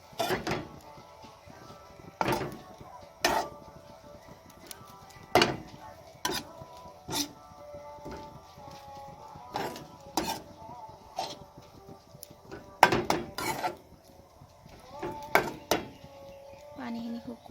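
Chopped mustard leaves stirred in a pan, with intermittent sharp clanks and scrapes of a spatula against metal at an irregular rhythm over a quiet background.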